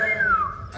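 A pressure cooker cooking mutton lets out a short, shrill whistle whose pitch slides slightly downward before fading, heard up close over quiet room sound.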